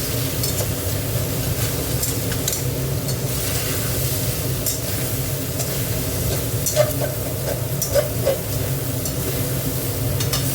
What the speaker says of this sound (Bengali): সয়াবিনটাকে ভালো করে ভেজে নিচ্ছি।